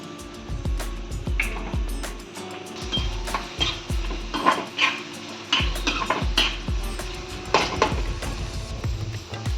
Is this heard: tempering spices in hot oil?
yes